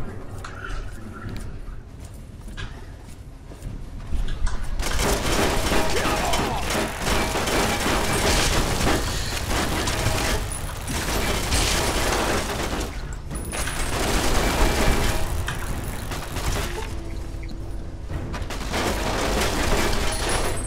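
Automated turrets in Fallout New Vegas fire from above in long, loud, sustained mechanical bursts, with short pauses between volleys, after a quieter opening.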